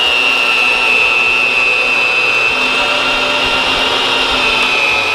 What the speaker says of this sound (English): I'm gonna drill all the holes through all the boards, which is 56 total.